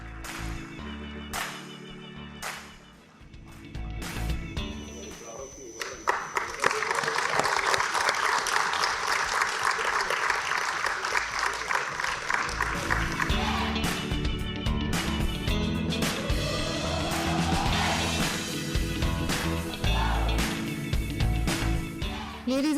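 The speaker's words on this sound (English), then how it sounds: "Ladies and gentlemen, a huge round of applause for our national winners for the Quiz Contest 2022." Audience applause for national quiz contest winners at a financial markets quiz ceremony, swelling from a mixed start into a sustained crowd clap over background music that lasts for the rest of the stretch.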